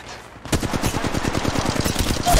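Rapid automatic gunfire from Apex Legends Mobile, a fast burst of close, loud shots repeating at a steady rhythm for about two seconds.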